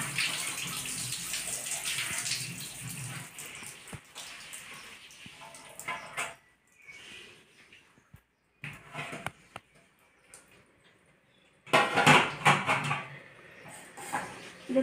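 Kalyana murungai (thorny drumstick) leaves washed clean in water, a close splashing and running-water wash that comes and goes in bursts with quiet gaps and a louder sloshing stretch near the end.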